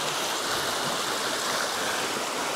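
River water flowing at Montalban falls near Wawa Dam, a steady broadband rush that fills the clip at close range with no break, loud and even throughout.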